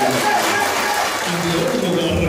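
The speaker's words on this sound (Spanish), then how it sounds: "Y yo por eso pido un fuerte aplauso para Dios." Audience applause fills a political gathering praising a government's public works, a steady wash of clapping that runs the whole way through with voices mixed into the crowd noise.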